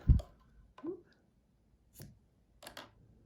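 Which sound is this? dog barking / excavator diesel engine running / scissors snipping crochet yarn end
scissors snipping crochet yarn end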